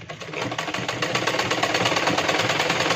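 A sewing machine runs a straight stitch on a 38-inch chest blouse, a steady rapid mechanical whir with regular pulsing that holds close and even for the full stretch.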